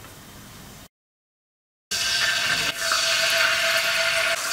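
Clean drinking water poured into a pan while cooking bok choy in oyster sauce, a steady close splashing pour after a brief silence, with no talk.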